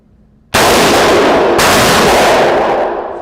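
Full power ammunition fired from a Colt Commando style AR15 clone rifle: a loud sustained burst of gunfire begins abruptly after a short quiet pause and rings on for nearly three seconds before easing off slightly.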